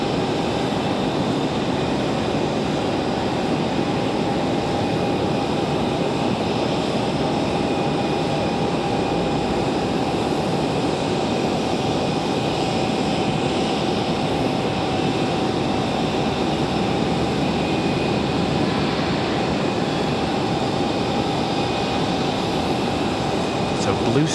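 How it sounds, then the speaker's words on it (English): American Airlines Boeing 777 on final approach at Raleigh-Durham, a steady broadband jet roar with a faint tonal whine, continuous and fairly loud throughout. "So the American 777 making their final 2 right-hand turns."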